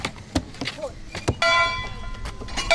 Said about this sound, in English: The ring of the bell means it's time to switch classes